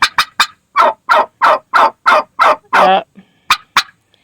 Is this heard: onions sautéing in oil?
no